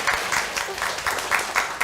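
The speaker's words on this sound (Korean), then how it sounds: "박수 한 번 더." An audience at a talk gives a brief burst of applause, a dense wash of clapping that stays steady and moderately close for under two seconds.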